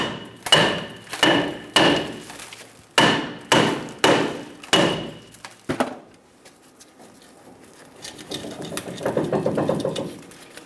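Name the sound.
hammer tapping on a Toyota Tacoma rear brake drum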